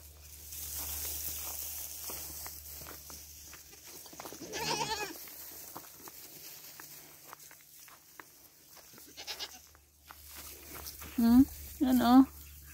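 Goats bleat at a farm, with one wavering cry early on and two louder, close bleats near the end, amid rustling footsteps and scattered outdoor noise.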